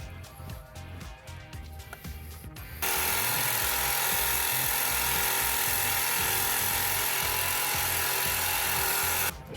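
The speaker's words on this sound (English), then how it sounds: "let's see if this carbide toothed blade can get through this guy" A carbide-toothed saw blade grinds loudly and continuously through a metal camber arm bolt on a 2016-2020 Tesla Model X, starting abruptly after quieter handling noises.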